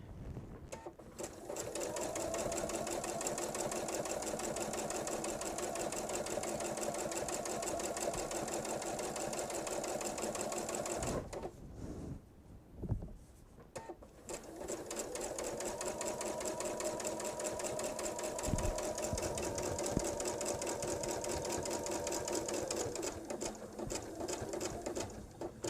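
A sewing machine stitches fabric for a strip-pieced kitchen set, a steady close mechanical whir running long and even, stopping briefly midway before resuming at the same pace.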